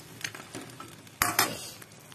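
Pork frying in a pan with ketchup, a soft, low sizzle with light stirring scrapes and two sharper clatters near the middle, all fairly quiet and with no talking.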